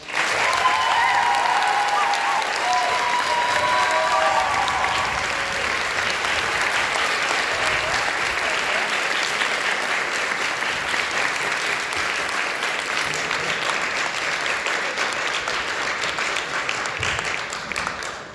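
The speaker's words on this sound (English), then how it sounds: "Let's give them a round of applause." A crowd at a JROTC awards night applauds at length, a loud, sustained, even clapping that fills the room for about eighteen seconds, with faint voices briefly mixed in near the start before slowly tapering at the end.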